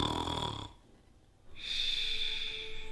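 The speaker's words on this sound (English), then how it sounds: "Are you snoring?" A person snoring: a rough, wheezy breath sound, then a brief quiet pause, then a steady, high whistling intake, all close and moderately loud with no talk.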